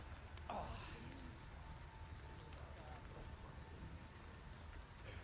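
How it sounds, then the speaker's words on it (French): Steady rain in the video game Resident Evil 4 Remake, a faint, even hiss of falling water that runs unbroken through the whole stretch with no distinct drops or thunder standing out. "Et mon dieu, cette pluie!"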